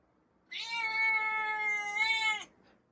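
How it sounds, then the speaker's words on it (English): A cat gives one long, loud, drawn-out meow lasting about two seconds, sounding close and alone in a quiet house during a 1910 vintage kitchen renovation. "I think the cat wants to go outside."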